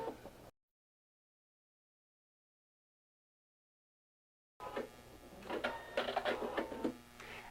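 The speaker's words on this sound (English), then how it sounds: "Go ahead and sew up your second one." After a stretch of silence, a sewing machine stitches quilt pieces for a beginner pinwheel table runner, a close, rapid mechanical whir and tapping that runs steadily for several seconds.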